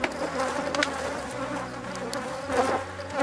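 Honeybees swarm around an opened hive box, making a dense, constant buzz with individual insects droning close by. The sound continues throughout with no talking.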